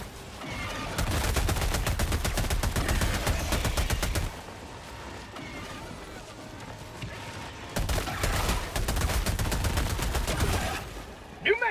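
A submachine gun in Helldivers 2 fires two long, rapid automatic bursts of several seconds each, loud and close, separated by a quieter lull of background battle noise.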